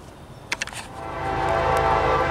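A southbound intermodal freight train with a mid-train DPU passes near Cincinnati, giving a few short horn blasts before a rising, steady rumble of rolling cars builds and holds. No one speaks.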